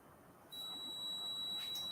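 A refrigerator's door-open alarm sounds as a steady, thin electronic tone that starts abruptly partway through and holds continuously to the end, fairly faint against a quiet room.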